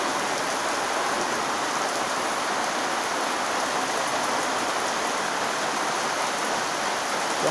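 Heavy morning storm rain pours steadily, a dense continuous hiss of drops drumming on surfaces, loud and unbroken throughout with no voices.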